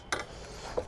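Handlebars on an affordable pressure washer click into place, giving two brief, close plastic clicks about two-thirds of a second apart over low background noise.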